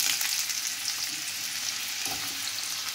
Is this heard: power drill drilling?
no